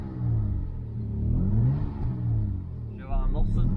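A Toyota Supra engine revs and rumbles close by, a steady throaty drone with a sharper, rising burst near the end, while a voice is briefly heard over it.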